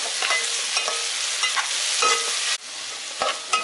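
Vegetables for homemade street-style veg chowmein hiss loudly as they are stir-fried in a pan, a dense continuous sizzle punctuated by scraping stirs and brief clatters, with no talk.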